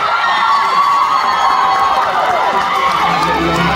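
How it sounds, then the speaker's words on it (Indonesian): An audience applauds and cheers for a singer at the Bintang RTM 2024 singing competition, a loud continuous crowd roar with whoops and shouts filling the whole stretch. "kita berikan tepukan untuk Hadi."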